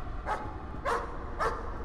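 Three muffled, evenly spaced dog barks from the Layers of Fear horror video game, moderately loud over a low rumbling background.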